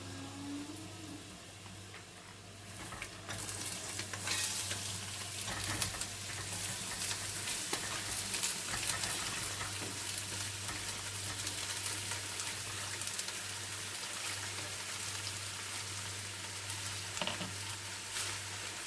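Loud sizzling and crackling as cabbage hits hot oil in a pot, with bursts of stirring and scraping continuing steadily, close up and without speech.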